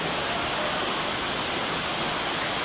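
Floodwater from a typhoon rushes steadily through a flooded neighborhood, a dense, continuous broadband roar like a torrent, fairly loud and unbroken with no voices.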